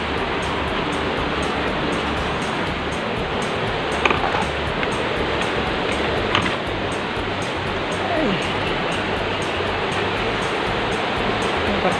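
A rural stream flows with a steady, broad rushing hiss, constant and fairly close throughout with only small shifts in level.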